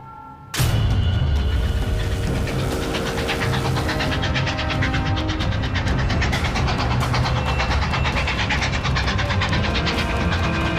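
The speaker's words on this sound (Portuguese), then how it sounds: "Um trem de carga corre em direção ao sul" A southbound freight train rolls past loud and close, starting abruptly with a heavy rumble and steady clattering of wheels on rails that continues throughout.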